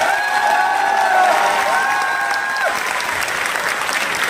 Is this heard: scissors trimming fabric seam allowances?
no